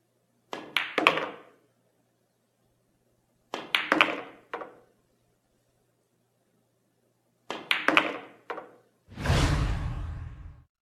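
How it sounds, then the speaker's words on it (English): Pool cue ball stun shot hitting an object ball straight on near the side pocket, heard as three separate pairs of sharp clacks spaced a few seconds apart, then a louder broad thud of the ball dropping into the pocket. "Since the shot is straight on, a stun shot is the perfect solution to avoid a scratch."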